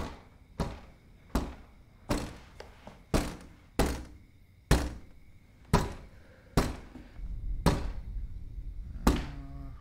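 A hand bangs against a window in the horror film Hush: about ten heavy, hollow thuds at uneven intervals, each sharp and close, followed by a short fading ring.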